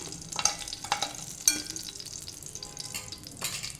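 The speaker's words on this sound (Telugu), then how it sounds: "పచ్చిమిర్చి కూడా వేయించుకొని తీసి పక్కన పెట్టేసుకోవాలి." Green chillies frying in a pan, a steady soft sizzle with occasional sharper crackles and stirring clatters, close by with no talking.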